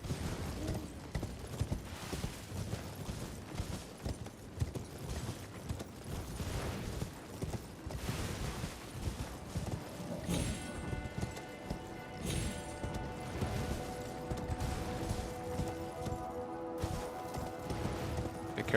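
Horse hooves clip-clopping steadily while riding in Elden Ring, a continuous rhythmic pounding throughout with a few metallic clanks and tonal game sounds joining partway.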